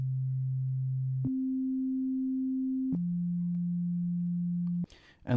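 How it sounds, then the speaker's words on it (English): Pure sine tone from the Grind synthesizer app, holding a steady pitch, stepping up once and then down again across three sustained notes before cutting off into a brief burst of noise. "And let's listen to a sine wave."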